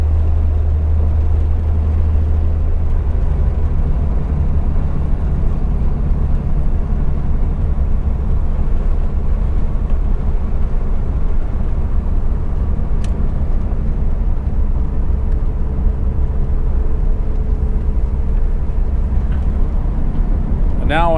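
A 1961 Mercedes-Benz 220Sb W111 with a four-speed manual column shifter climbs a hill, its engine droning at a steady, loud, low pitch from inside the cabin while someone talks over it.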